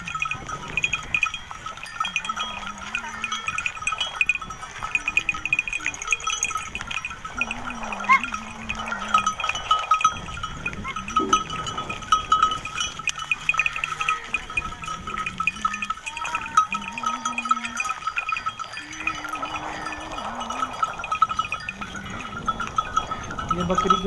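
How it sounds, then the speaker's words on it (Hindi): A herd of Cholistani sheep and lambs moving together, with repeated bleats near and far over a steady shuffling background and some talk in between. "ये एक बहुत खूबसूरत लाल मुंह वाला छोटा सा भेड़ का"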